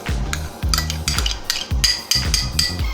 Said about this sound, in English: Now we are whisking our custard powder, sugar and milk mixture.